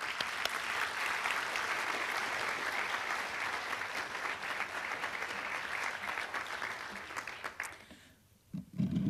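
Sustained audience applause at a December 2014 BSN nursing pinning ceremony, welcoming an award-winning speaker; steady dense clapping fills the room for about eight seconds, then tapers off abruptly.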